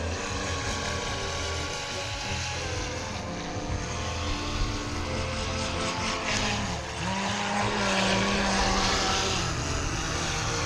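A small Pro Boat Lucas Oil 17 RC boat motor whines steadily and loudly throughout, rising in pitch near the end, with a buzzing, propeller-like drone over water.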